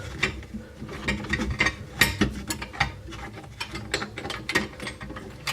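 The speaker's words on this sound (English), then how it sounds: "a little plastic nut here that you can unscrew" A small plastic nut on a bathroom sink drain stopper being unscrewed, close up: a run of quick, uneven plastic clicks and scrapes with brief pauses between turns.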